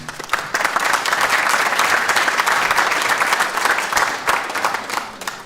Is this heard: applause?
yes